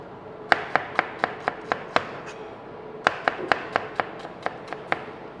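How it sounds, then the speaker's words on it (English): A knife slices shallots on a chopping board in sharp, evenly spaced taps, about seven in a row, then a short pause and another quick run of cuts, close and clear. "Always make sure you have a stable balance before you start slicing it."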